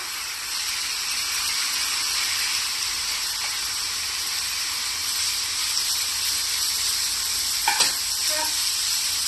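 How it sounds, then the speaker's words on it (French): Lardons frying in a pan for mini tarte flambée muffins, a steady, dense sizzle and hiss that holds for several seconds, with a brief clatter of a utensil near the end. "Je vais rajouter les lardons"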